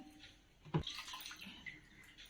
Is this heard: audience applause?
no